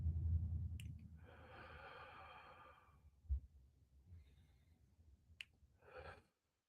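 A long, soft breath out during a guided ear-to-shoulder neck stretch in a live focus session: a steady airy exhale of about two seconds, faint and close, followed by a second, shorter breath.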